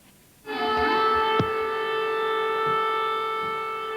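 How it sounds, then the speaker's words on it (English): An air raid warning siren over Tuzla, Bosnia, in 1995 starts abruptly and holds a steady, loud wailing tone, sounding over open air with a brief sharp knock partway through. "The warning siren sounded over Tuzla this morning"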